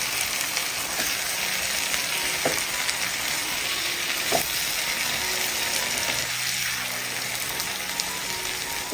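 Boiled eggs stirred through masala in a pan give a steady, fairly quiet sizzle. A few scrapes and taps of the spoon ring out over the frying, with no voices.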